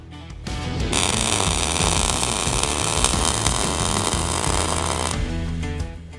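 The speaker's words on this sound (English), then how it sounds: "Now it comes time to fully weld it in place" An electric welder fusing the gate onto an off-road race trailer gives a loud, steady crackling buzz that starts after a brief pause and runs for about four seconds before cutting off, with shop hum around it.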